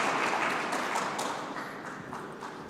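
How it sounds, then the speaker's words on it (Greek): Warm applause from the audience at a workplace wellbeing forum, a dense patter of clapping hands that starts loud and gradually thins and fades. "Να της δώσετε και ένα θερμό χειροκρότημα"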